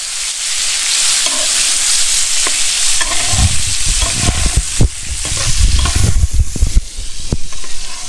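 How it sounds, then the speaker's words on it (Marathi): Paneer sizzling steadily in a pan at a foggy campsite atop Madhe Ghat waterfall, with frequent scraping and stirring knocks growing busier partway through; close and fairly loud, with no talking. "आणि इकडे पनीर फ्राय होतात आहेत"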